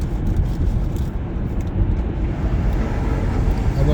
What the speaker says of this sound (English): I wanted you to hear that truck,